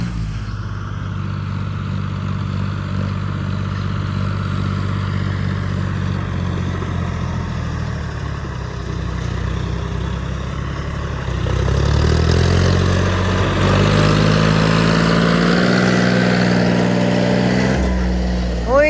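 A Swaraj 855 tractor engine labors steadily in a wet field while pulling out another stuck tractor, its low drone rising louder and rougher partway through as it takes the load, with people talking over it.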